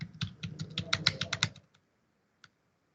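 Data being typed on a computer keyboard: a quick run of close, crisp keystrokes for about a second and a half, then a pause and one last isolated tap.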